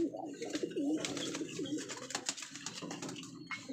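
Pigeons on a high-flying pigeon and bird farm coo repeatedly in soft, throaty rolling phrases, several birds overlapping at close range against steady background noise.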